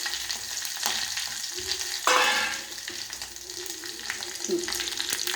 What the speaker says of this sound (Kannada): ಒಂದು ಕಡ್ಡಿ ಕರಿಬೇವು. ಈ ಥರ ಚಟ್ಪಟ್ ಅನ್ನಬೇಕು.